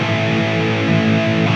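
An electric guitar through a Zoom 505 effects processor on a lead patch with heavy reverb rings out as a loud, sustained, distorted chord wash, continuous and close with no voices.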